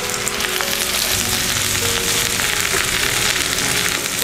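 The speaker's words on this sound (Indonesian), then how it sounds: "Minyaknya sudah panas. Kita masukkan bawang merah. Masukkan serai, lengkuas, kunyit, daun salam." Shallots, lemongrass, galangal, turmeric and bay leaves fry in hot oil with a loud, steady, dense sizzle and crackle that holds without break, with no talking.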